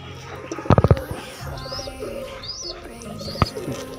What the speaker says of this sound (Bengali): আরেকটা কালাঙ্কা আর্শাদ লাইনের পায়রা।